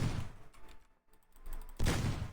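Gunfire in the video game Meccha Chameleon comes as loud bursts of shots. A heavy volley at the start fades into a brief lull, then the firing picks back up and ends on another strong, close burst.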